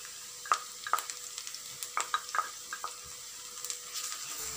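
Onions, green chillies and curry leaves sauté in a pan for a Chettinad prawn masala, with a soft frying hiss under a quick run of sharp spatula taps and scrapes against the pan, close and without speech.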